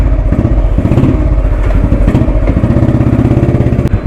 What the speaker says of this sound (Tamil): 2003 எலக்ட்ராங்க. சூப்பர் வண்டி இது.